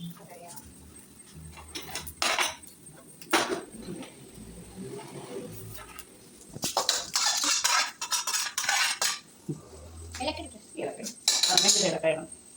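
A metal utensil scrapes and clinks against a cooking pot as food is stirred, in irregular bursts of rattling strokes, with a person talking at times between them.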